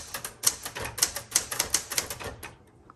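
Rapid keystrokes and a backspace tapped on a 1973 Galaxie Twelve manual typewriter, a dozen sharp close clacks in an uneven rhythm that stop near the end, with no voices.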